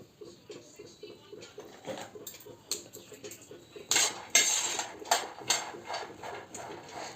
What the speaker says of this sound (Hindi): पटपट की आवाज़ आ रहा है।